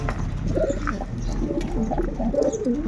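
A racing breeder pigeon coos in soft, repeated throaty phrases at close range, alongside light background noise.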